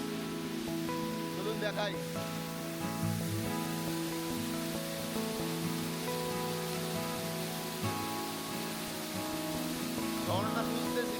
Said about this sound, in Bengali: বামনি ফলসে জলের আওয়াজ শুনতে পাচ্ছেন?